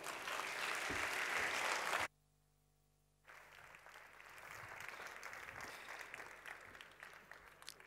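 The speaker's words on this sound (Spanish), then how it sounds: "Un fuerte aplauso para él." Audience applause welcoming a lecturer at a talk, a steady burst of clapping that cuts off abruptly, pauses in near silence, then resumes more softly and continues at moderate level.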